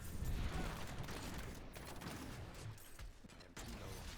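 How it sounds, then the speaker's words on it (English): Rapid crackling bursts and rumbling explosions pile up continuously in the Demon Hunter action game, dense and chaotic, with no speech. "That's a lot of explosions."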